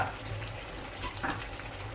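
Pork belly is stir-fried with red curry paste and long beans in a pan, giving a close, steady sizzle with a few scraping stirs and clatters of the utensil.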